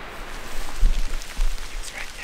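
Rain falls during a deer hunt on a hillside in Pennsylvania, a steady soft hiss with a few low thumps from movement nearby.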